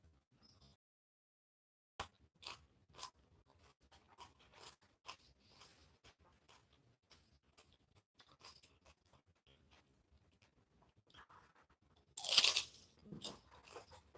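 Someone chewing raw celery, carrot and cucumber: quiet, close crunching bites in an irregular rhythm throughout, with a louder crisp crunch near the end.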